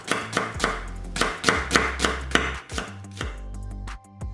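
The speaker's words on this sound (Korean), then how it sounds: "양파 4분의 1개는 살짝 굵게 채 썰어 담아" A knife slicing a quarter of an onion into thick strips on a cutting board, about a dozen crisp rhythmic chops close by with no talk.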